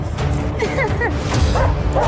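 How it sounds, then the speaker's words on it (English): A dog gives a few quick, high yips and barks close by, over a steady rumbling background. "She literally barks at the men."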